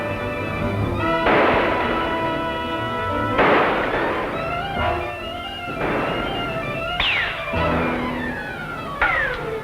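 Gunfire and whining ricochets from a 1944 serial film about a river boat, with several sharp shots spread through a tense orchestral score.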